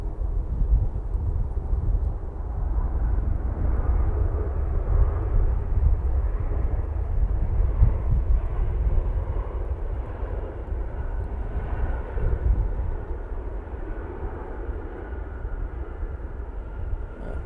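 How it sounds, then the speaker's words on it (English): An Etihad Boeing 787-9 Dreamliner landing at Manchester Airport, a loud, broad jet engine roar and rumble heard from nearby, sustained throughout with slight swells, with wind noise and no talk. "Etihad 787-9 Dreamliner now touching down right on top of the bump."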